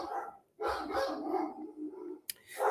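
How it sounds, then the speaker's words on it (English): Dogs bark in a few loud, close bursts, with a brief pause before the last yelp. "And there go the dogs."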